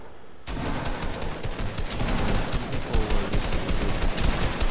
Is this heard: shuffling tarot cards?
no